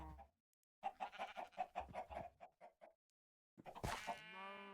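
Chickens in the Desertopolis game cluck in a quick series of short rhythmic squawks, then a pause, followed by a louder, drawn-out bird cry with a sharp onset that fades into a sustained tone.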